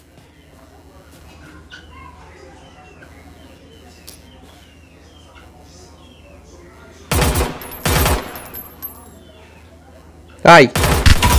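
Weapon fire in the video game Omega Legends: two dense bursts of automatic gunfire, then another loud burst near the end, over quiet game ambience with a brief exclamation.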